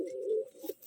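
A pigeon among a flock of white pet birds gives a low, soft coo that holds for about half a second and then breaks into a shorter second note, close and alone.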